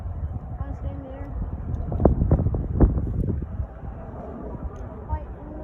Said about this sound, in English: Fight in the wind.